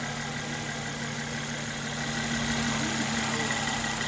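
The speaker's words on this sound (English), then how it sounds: "V6, beautiful engine" A V6 car engine idles steadily in a showroom, a smooth, even low hum with a faint whine, continuous and close throughout with no talking.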